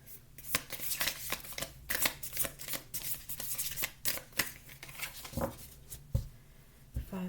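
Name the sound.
shuffling and drawing tarot cards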